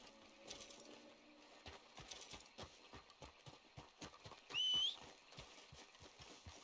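Horse hooves in the video game Red Dead Redemption 2 beat out a steady, rhythmic clip-clop at a fairly quiet level, with a brief whistle-like tone partway through.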